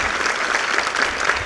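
An audience at a lecture by Avinash Bharti claps in a dense, even burst of applause that runs evenly for the whole short moment.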